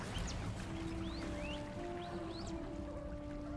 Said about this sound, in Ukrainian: Я чую пташиний спів.